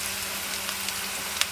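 Sliced onions and curry leaves fry in a pan with a steady, soft sizzle and small crackles and pops, close by and continuous with no voice.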